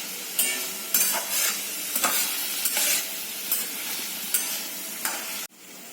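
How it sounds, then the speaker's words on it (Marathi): Grated coconut being sautéed and stirred in a hot pan, repeated scraping strokes about once a second over a steady light sizzle, close and clear, ending with a sudden cut. "आपल्याला नारळाची परतून परतून घ्यायचे आहे"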